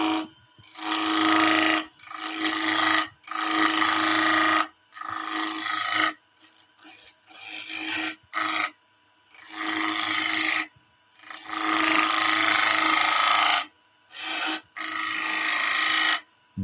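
A skew chisel cuts a staircase spindle spinning on a wood lathe in a workshop, a series of loud, rasping passes of a second or two each, broken by short pauses.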